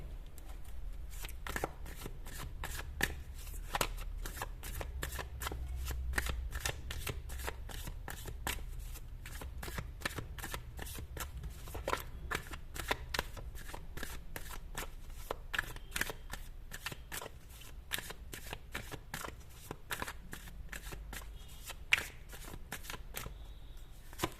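A deck of tarot cards shuffled continuously, producing a long, fast stream of soft, quiet ticks and riffles at an even pace, heard close up with no voices.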